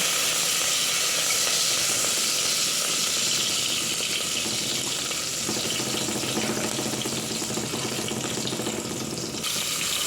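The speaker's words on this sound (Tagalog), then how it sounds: "ready na guys yung ating mantika. Tayo ay maggisa na. Ayan, nilagay ko lang ang ating bawang." Garlic sautéing in hot cooking oil gives a loud, steady, broadband sizzling hiss that continues unbroken for about ten seconds, with no talking.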